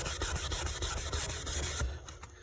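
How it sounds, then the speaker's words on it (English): Wood stain being rubbed out on a varnished surface, fast repeated back-and-forth rubbing strokes, close and steady, then slowing to a few final strokes, with no talking. "when you rub the stain out"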